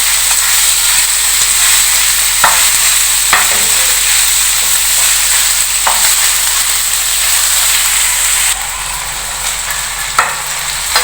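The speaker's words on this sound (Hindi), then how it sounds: "2-3 मिनट तक हमने इसको फ्राई करना है प्याज के साथ।" Fish frying with onions in a pan for fish katakat, a loud steady hiss and sizzle with occasional sharp scraping knocks as it is stirred, no talk.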